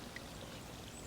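Water pours from a pressed special forces water filter bag at a base camp, a brief, soft, steady trickle with no talk over it.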